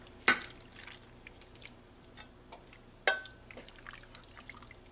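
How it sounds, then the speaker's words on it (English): Boiled noodles drained in a kitchen: two sharp splashy bursts of water, one near the start and one midway, with scattered drips and faint wet trickling in between. "I'm going to drain my noodles to put it in here."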